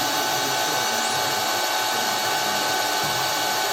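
An electric motor running through an M900 converter used to turn 220 V into 380 V, a loud continuous whine with a high tone rising as it spins up, steady throughout without talk.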